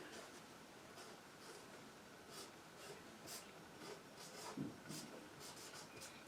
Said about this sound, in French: Je l'écris en grec.